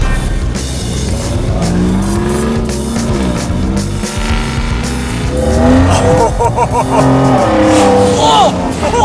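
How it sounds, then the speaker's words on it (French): Car engine roaring loudly with a heavy, truck-like growl, revving and rising in pitch up close, while people talk excitedly over it throughout. "il fait un bruit de camion"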